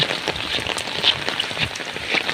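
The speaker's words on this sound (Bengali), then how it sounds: "অনেক বৃষ্টি হচ্ছে, শুধু পানি পড়ছে।" Heavy rain pours down after a storm, now with little wind, making a dense, continuous close patter of drops striking surfaces, loud and unbroken, with no voices.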